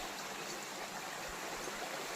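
Spring water flowing in a forest stream: a soft, continuous rushing hiss that stays even throughout, quiet and unbroken.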